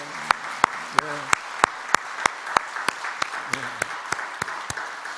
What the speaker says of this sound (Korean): 하나님께 영광의 박수를 한번 돌릴까요?